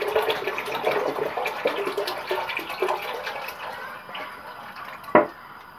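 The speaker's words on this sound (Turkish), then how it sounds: "Evet ve 2 litre süt ekleyeceğiz" Two litres of milk pours into a cooking pot on the stove for a milky Eid dessert, a steady close liquid gush with light splashing that tapers off, then one sharp clink.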